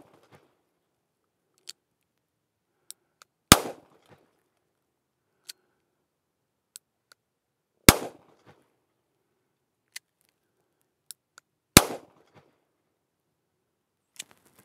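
Three loud, sharp Walther PPK .32 ACP pistol shots crack out at a shooting range, spaced about four seconds apart, with faint clicks and small handling ticks between them.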